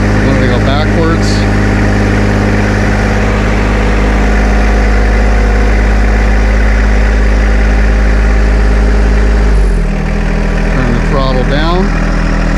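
A John Deere 2025R compact tractor engine runs loud and steady with a deep rumbling drone, briefly dropping in pitch near the end as a voice speaks over it.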